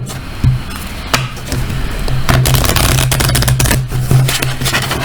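A stiff, gilded 36-card Shadowland Lenormand deck is shaken and shuffled by hand, producing crisp, close papery rustles and sharp slaps in irregular bursts.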